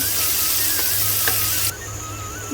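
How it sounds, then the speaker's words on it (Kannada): Onions sizzle as they fry in a pan for broccoli masala, a steady close crackle with faint stirring taps and no talking. "ಈರುಳ್ಳಿ ಹಾಕಿ ಟ್ರಾನ್ಸ್ಪರೆಂಟ್ ಆಗುವವರೆಗೆ ಇದನ್ನು ಫ್ರೈ ಮಾಡಬೇಕು"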